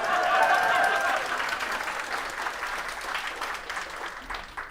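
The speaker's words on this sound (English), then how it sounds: "yeah, clap." Audience applause at a community event in a Fluevog shoe store on Queen Street, Toronto: a dense burst of clapping that starts loud and gradually thins out over a few seconds.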